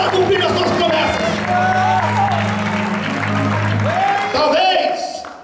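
A church congregation at a family worship service claps and cheers in sustained applause, with loud voices speaking and calling out over the crowd and tonal music underneath before it fades near the end.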